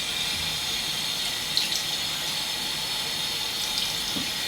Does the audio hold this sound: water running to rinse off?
yes